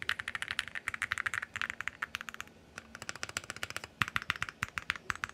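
Keystrokes on a Super 1+1 TKL prebuilt mechanical keyboard fitted with Moonstone switches, typed in fast, uneven bursts with a short pause near the middle. The clacks are deep and rounded, close and fairly loud, with no voices.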